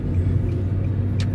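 A Mustang car engine gives a brief, steady, deep rumble, close and continuous, with no change in pitch.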